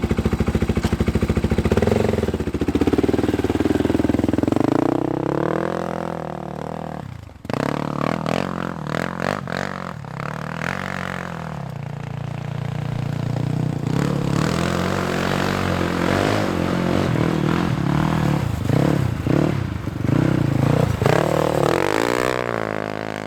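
A Polaris Predator sport quad, an old barn-find machine with new tires and warm after a cold start, fires up and revs close by, its engine rising and falling in loud, rough surges.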